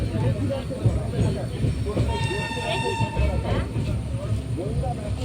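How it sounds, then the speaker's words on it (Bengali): A train rolls in with a rumbling clatter and a long horn blast partway through, while people talk nearby. "এক্ষুনি ট্রেন আসবে"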